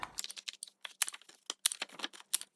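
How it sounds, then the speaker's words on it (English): A small corner rounder punching the corners of paper card gives a quick series of sharp, close clicks and snaps in an irregular rhythm, with no speech. "Going to round the corners with my small corner rounder."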